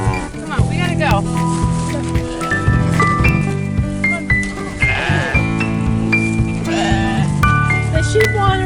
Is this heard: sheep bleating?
yes